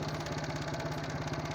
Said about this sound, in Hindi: इंजन में कोई गड़बड़ नज़र आ रही है।